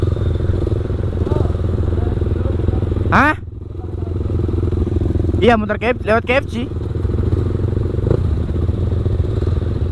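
Motorcycles on a Sunday morning group ride idle and rumble close by, with a couple of quick horn-like bursts, while people talk over the engine noise.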